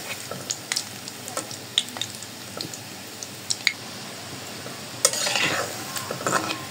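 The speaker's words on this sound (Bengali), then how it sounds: "কোফতাগুলো ভাজা হয়ে গেছে, এখন আমি উঠাই নিব।" Pangas fish koftas fry in hot oil in a pan with a soft continuous sizzle, punctuated by sharp clicks and scrapes of a utensil stirring and turning them, louder bubbling near the end.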